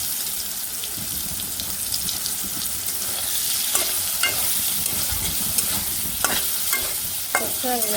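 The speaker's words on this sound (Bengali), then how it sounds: "তেল লাগিয়ে ভাজছি" Close, steady sizzling of soybean chunks frying in hot oil, with occasional clinks and scrapes of stirring, no voices.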